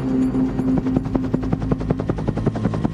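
A UH-1 Huey helicopter flies over a battlefield, its rotor thumping in a steady, rapid beat under a constant engine whine, fairly close and loud with no talk.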